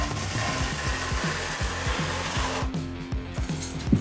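A notched trowel scrapes tile mortar across a floor being laid with porcelain tile, making a steady, close rasping drag with a repeating stroke rhythm and no voices.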